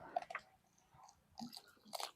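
Quiet chewing and biting on food, with a few soft crunchy bites and moist mouth sounds close by, spaced in short bursts, no talk.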